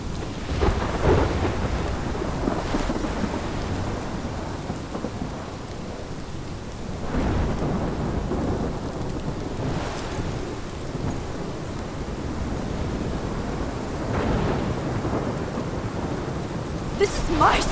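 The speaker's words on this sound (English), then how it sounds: "This is my storm. I caused this." A thunderstorm with steady rain in the video game Life is Strange, rolling thunder rumbling repeatedly under continuous heavy rainfall, loud and enveloping throughout.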